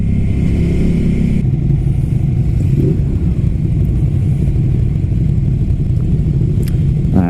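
A Ducati Scrambler Flat Track motorcycle engine pulls under throttle, a loud, steady, close rumbling drone with wind noise throughout, easing briefly early on and holding its growl to the end.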